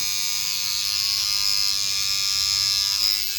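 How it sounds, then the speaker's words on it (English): A vibrating electric toothbrush held against a tomato plant to shake loose pollen gives a steady, loud, close electric buzz that holds without a break. "all you need is a vibrating toothbrush. And what you want to do is just touch the plant like that"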